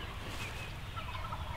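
Distant wild turkeys gobble during a New York turkey hunt over steady outdoor background noise, a rattling call rising and fading with no one talking.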